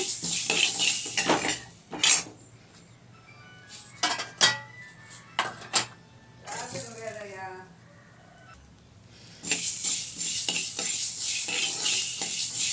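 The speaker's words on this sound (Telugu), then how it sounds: "మెంతులు చూడండి చిట్పట్లాడుతున్నాయి వేగిపోయినాయి" Mustard and fenugreek seeds frying in a pan for instant mango pickle, with bursts of sizzling and crackling, metal spoon clinks against the pot, a stretch of talking in the middle, then sizzling returns.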